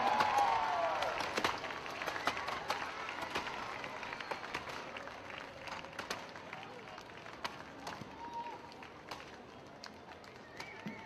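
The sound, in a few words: crowd cheering and applauding at the show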